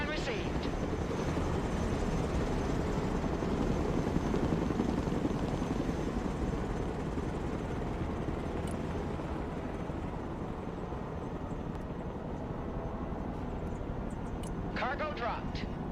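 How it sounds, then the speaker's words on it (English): A Chinook helicopter in the Broken Arrow video game drones with a continuous rotor roar at moderate level, steady across the clip, with a few brief radio-style clicks near the end. "Chinook, reporting in. New flight plan received."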